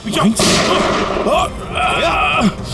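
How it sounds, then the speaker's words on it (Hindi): Loud gunshots and heavy blasts in a Hindi TV crime drama scene, dense and sustained over nearly three seconds, with swooping effect tones running beneath the bursts. "गोली चला रहा"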